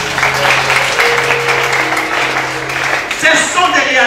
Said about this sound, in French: Acclamez pour le roi.